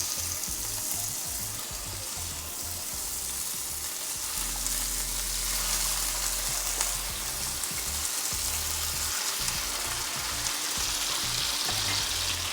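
Seasoned chicken pieces laid seasoned side down in a hot pan for keto burritos, giving a loud continuous sizzle and spitting fry, dense and close, with low clunks early on.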